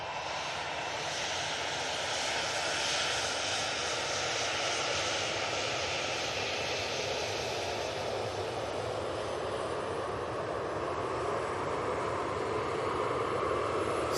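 A Ryanair jet airliner's engines spool up at Manchester Airport, a loud continuous roar with a broad whooshing rush that holds steady throughout, with no voices over it.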